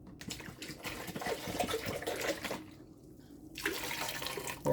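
Water pours and splashes steadily into a cooking pot on a fire, with a brief pause near the middle before the flow resumes, close and fairly loud, with no talking.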